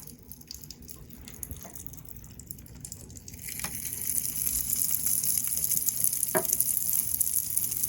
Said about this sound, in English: we're definitely getting that very strong popping sound and some bubbles